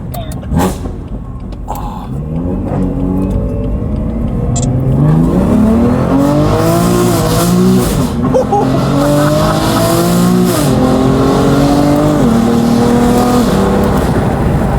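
A BMW M4 fitted with aftermarket downpipes accelerates hard from inside the cabin, a loud rising engine roar stepping up through several gear changes with brief dips at each shift, continuous for most of the stretch.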